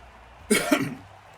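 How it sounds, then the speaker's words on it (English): A single harsh cough bursts out close by, followed by a brief rough tail, then quiet room tone. "Sorry, got a cough."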